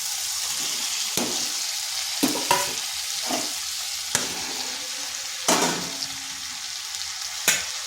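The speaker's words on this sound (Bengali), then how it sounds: "এই আলু আর ঢেঁড়স ভালো করে মশলার সাথে কষে নিচ্ছি।" Potatoes and okra fry in spice paste in a wok, a steady close sizzle broken by sharp scraping stirs every second or two, with no voices.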